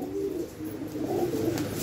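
Low, throaty cooing from a feisty Unlimited-line loft pigeon in Kerala rolls on for a couple of seconds, steady and close with no voices.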